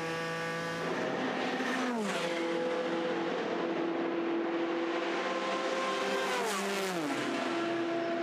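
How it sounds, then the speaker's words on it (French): Porsche and Ford GTE race cars at the 24 Hours of Le Mans 2019 on the Mulsanne straight, engines roaring loud and close, with the pitch dropping sharply as each car passes, one after another. "Mulsanne passé pour la Porsche et pour la Ford."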